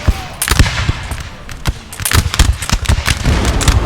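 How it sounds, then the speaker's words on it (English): Dense Napoleonic-era battle explosions and musket and cannon fire in Napoleon: Total War, loud booms and rapid bursts layered into a chaotic, continuous barrage as infantry are pounded. "look at the explosions going off."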